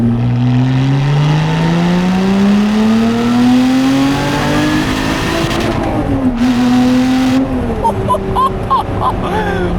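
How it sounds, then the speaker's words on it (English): A Lotus sports car engine revs hard in second gear, its pitch climbing steadily up to the limiter, then bouncing and crackling as it cuts out. "we're gonna hit the limiter in second gear."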